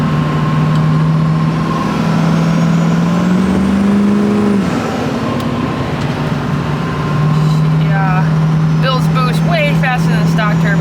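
An LB7 Duramax diesel pickup with a 68mm LDS turbo and 45-over LDS injectors drives on rough roads. Its loud, continuous engine drone carries a whistling turbo tone that dips briefly midway, then resumes.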